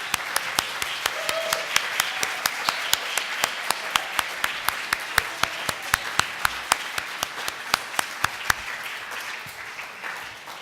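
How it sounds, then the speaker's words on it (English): Applause for competitors at an award presentation ceremony, a crowd clapping steadily for about ten seconds, with sharp individual claps punctuating the dense patter at an even rhythm before it winds down. "let's give them all a round of applause"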